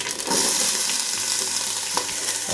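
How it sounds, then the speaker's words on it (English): Onions tossed into hot whole spices and bay leaf in an Instant Pot give a close, steady frying sizzle with stirring scrapes and a brief clatter near the end. "And now I'm going to add in the onions."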